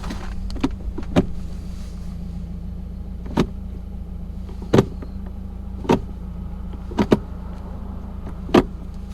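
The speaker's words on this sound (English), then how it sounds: "So I'll just go through the gears right now quick." A 2018 Subaru WRX fitted with a short shifter is run through its gears, producing sharp, close mechanical clicks and clunks at irregular intervals over a steady low interior hum.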